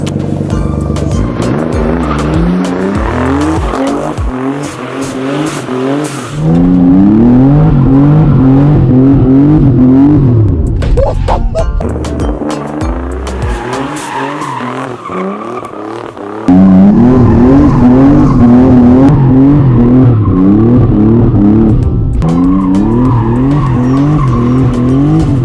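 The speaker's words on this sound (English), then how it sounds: "This is my twin turbo Nissan 300ZX." A straight-piped twin-turbo Nissan 300ZX drives hard, its engine loud and close, rising in repeated rev sweeps through the gears with sharp breaks between shifts and brief turbo whooshes.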